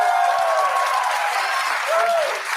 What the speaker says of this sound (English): They're all clapping.